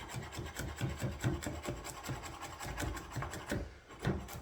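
Garlic cloves being sliced with a knife on a board while cooking beef stroganoff: a steady run of quick, close, soft scraping chops, evenly paced, with a short pause near the end.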